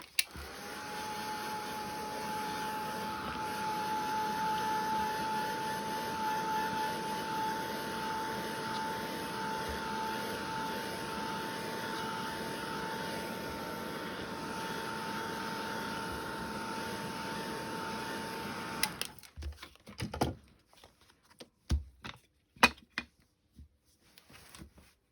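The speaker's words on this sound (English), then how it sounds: "Or you can heat it with your heat gun." A heat gun drying a handmade craft tag, a steady whirring blower hum running close and even for about nineteen seconds, then switching off into scattered clicks and handling noises.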